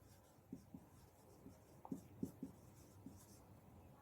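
Chalk or marker scratches across a classroom board in short strokes during a maths lesson, a series of faint, brief scrapes with small pauses between them and no talking.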